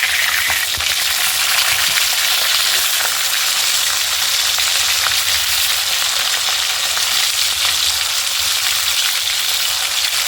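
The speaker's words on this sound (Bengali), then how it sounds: "এখন একটা কড়াইতে তেল দিয়ে দিলাম, তেলটা গরম হয়ে গেছে। এখন মাছটা ভেজে নেব।" Pieces of large fish fry in hot oil in a kadai, making a loud, dense, unbroken sizzle close by with faint crackles throughout.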